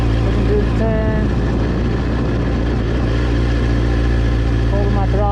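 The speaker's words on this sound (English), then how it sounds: "holding my throttle nice and steady, making a nice big old turn" A motorcycle engine holds a steady throttle through a wide, slow turn in a cul-de-sac, giving a continuous loud, low drone with no change in pitch; faint voices may sit under it.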